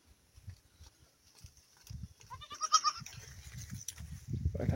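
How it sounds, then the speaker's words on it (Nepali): Goats on a small organic farm give a few nearby bleats, with shuffling and movement sounds around them that grow busier and louder toward the end. "बाख्रा चाहिँ किन ननिस्केको बाहिर।"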